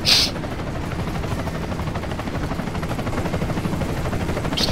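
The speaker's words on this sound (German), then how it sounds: "Was ist das für ein Helikopter?" Helicopter rotor drone with steady rapid gunfire in the video game Bulletstorm, a dense continuous clatter of shots over a low whirring hum, loud and sustained throughout.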